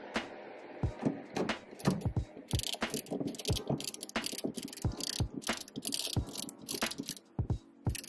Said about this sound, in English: What you'll need is a number 11 hex head to remove that bolt for the battery.